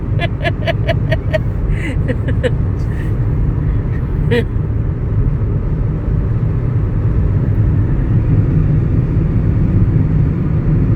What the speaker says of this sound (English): Hear the drone of the cars, tires on the highway all day long, and night long